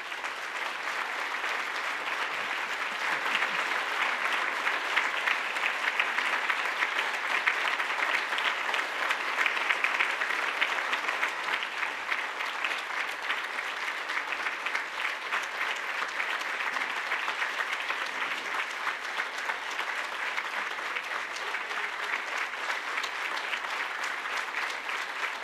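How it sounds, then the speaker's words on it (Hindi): An audience at a Gurumaa gathering welcomes guests with loud, sustained applause, dense clapping that keeps going evenly for the full twenty-five seconds with no voices standing out. "जोरदार तालियों के साथ"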